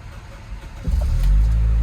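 A 2003 Honda Civic Si EP3 engine cranks and catches, then settles into a steady, low, fairly quiet idle close by.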